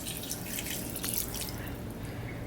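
Mandarin orange juice pours steadily into a bowl, a continuous close liquid trickle and splash lasting the whole moment with no speech over it.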